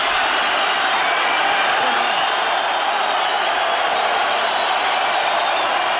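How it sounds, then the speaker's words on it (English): Boxing arena crowd roaring steadily for Mikkel Kessler during his fight with Carl Froch, a dense, loud wall of cheering and shouting that holds without a break. "the crowd's going mad for Mikkel Kesler"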